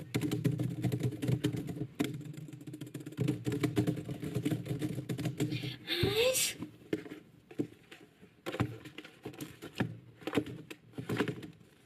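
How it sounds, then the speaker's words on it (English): Rapid, uneven clicks of typing on a computer keyboard come in bursts at close range, with brief pauses and a sharp swish partway through. "I can't sleep because there were typing noises."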